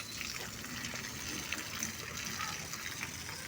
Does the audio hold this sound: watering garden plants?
yes